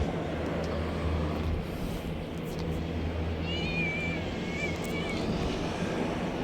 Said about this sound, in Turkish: İyi kediye bak.